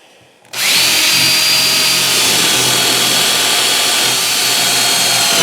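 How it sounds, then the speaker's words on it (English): A power drill with a 1/2 inch bit boring holes into wood, angled upward, for a homemade carpenter bee trap; after a brief quiet start the drill whines loudly and steadily at close range for several seconds, with no voices. "I'm going to switch to a 1/2 inch, and I'm going to drill my holes to connect that."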